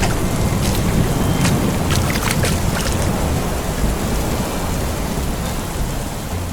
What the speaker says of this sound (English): The sky quickly darkened, and the rain began to fall.